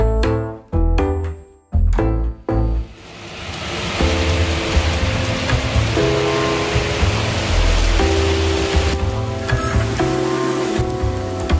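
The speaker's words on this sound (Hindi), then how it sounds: "अभी तो बारिश हो रही थी।" Steady rain hisses on surfaces outdoors, continuous and moderately loud, following several sharp, loud knocks at the start.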